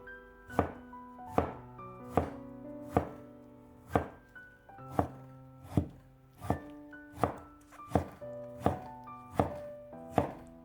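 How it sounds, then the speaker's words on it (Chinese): A knife cuts tomatoes into thin slices on a cutting board, about a dozen crisp, evenly spaced chops, close and clear with quiet gaps between strokes. "再将西红柿切成薄片"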